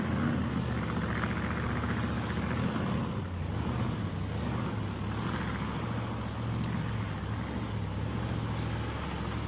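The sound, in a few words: Willys drag racing car with Keith Black engine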